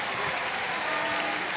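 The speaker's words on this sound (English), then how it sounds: "this effort has been rewarded by the applause of a crowd" Crowd applause at a FIBA AfroBasket 2017 basketball game between Rwanda and Tunisia, a dense steady patter of clapping filling the arena, moderately loud and brief.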